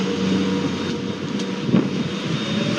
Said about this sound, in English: That's a drone.